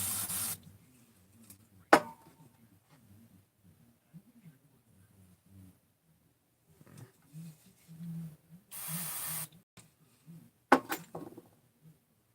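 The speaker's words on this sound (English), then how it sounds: "put a little bit of brake cleaner right in here. I'll hit that and make sure it flows through." Short hissing bursts of brake cleaner sprayed into a carburetor on a 350 engine, one near the start, one longer blast around the middle and another near the end, with quiet handling sounds and low murmurs between.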